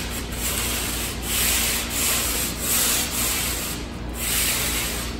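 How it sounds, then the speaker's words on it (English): An 80 grit palm sanding pad is rubbed by hand over a painted wall, giving close, steady scratchy strokes that swell and fade in a slow rhythm, with no talking. "I'm just taking an 80 grit palm sanding pad"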